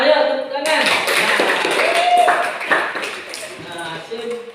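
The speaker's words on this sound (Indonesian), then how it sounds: "ayo tepuk tangan" A classroom of students claps hands together in a dense burst of applause, lasting several seconds and tapering off, with voices mixed in.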